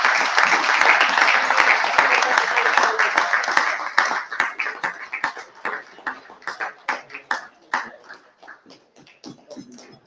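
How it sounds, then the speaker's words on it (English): An awards night audience gives a big round of applause: dense, loud clapping for about four seconds, then thinning into scattered individual claps that fade out. "But a huge round of applause."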